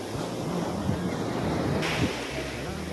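Big ocean waves roll and crash at a beach, a steady loud roar of surf with wind buffeting the microphone.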